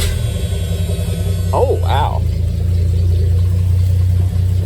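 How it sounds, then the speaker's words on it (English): A car engine with a modified exhaust idles steadily with a low, even drone, while a voice briefly exclaims over it. "Now the exhaust sound's coming at the back, not out here."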